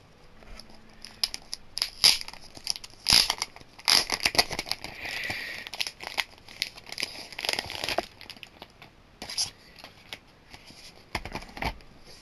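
Plastic wrapping is torn and crinkled off a Blu-ray disc, the third volume of Charlotte. Irregular bursts of crackling, rustling and ripping come close up, separated by short pauses.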